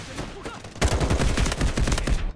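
Dense automatic gunfire from an MP5 submachine gun in the mobile shooter Delta Force Mobile, a loud continuous burst of rapid shots filling most of the short stretch after a brief lead-in of game noise.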